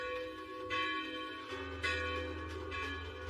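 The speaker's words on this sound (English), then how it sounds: "Wait, that's the bell, right?" A large bell tolls with a sustained, ringing metallic hum, struck a couple of times at steady intervals, with no talking over it.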